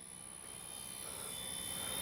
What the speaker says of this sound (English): Bring her by, just the landing flaps are down.